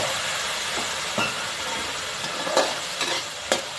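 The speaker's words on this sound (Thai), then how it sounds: "คลุกเคล้านะครับไปเรื่อยๆให้เขามีกลิ่นหอมขึ้นมา" Yellow bean paste sauce for Thai rad na noodles fries in a pan while being stirred: a continuous close sizzle broken by a few sharp scraping strokes of the utensil, with no voices.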